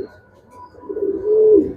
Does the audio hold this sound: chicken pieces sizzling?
no